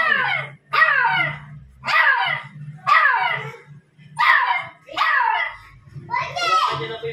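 A dog barks and yelps in a loud, close series of about seven sharp bursts with brief gaps between them.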